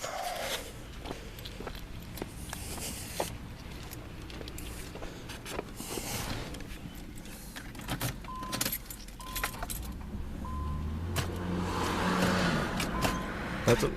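Keys jangle as an Infiniti Q45 (1997–2001 generation) is started, with a car engine running steadily and close by for the whole stretch, mechanical clicks and rattles scattered over it.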